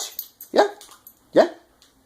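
A dog gives two sharp, loud barks about a second apart, close by, with faint yips and whimpers in between.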